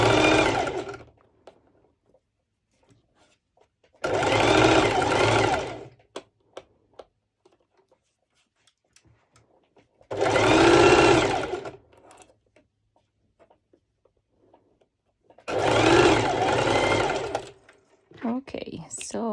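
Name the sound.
sewing machine sewing a basting stitch on fabric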